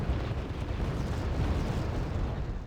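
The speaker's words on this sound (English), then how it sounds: "Rather powerful grenade launcher." Heavy, continuous explosions from a powerful grenade launcher in the Wargame: Red Dragon battle game, dense overlapping booms forming a loud, sustained rumble throughout with no voice.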